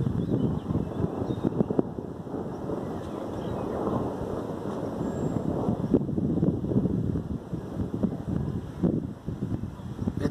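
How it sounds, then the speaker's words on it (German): Gusty wind during a strong night-time thunderstorm in Ingolstadt, Germany, buffets the microphone with a loud, rumbling roar that rises and falls without letting up. "Jetzt wird's windig."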